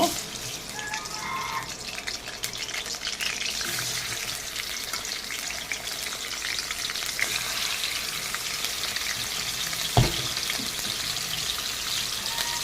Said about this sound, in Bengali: এখন আমি মাছের মাথাটাকে ভেজে নেব